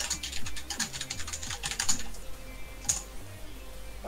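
Rapid typing on a computer keyboard, close up, with dense clusters of clicking keystrokes and a couple of sharper, louder key hits, no talk.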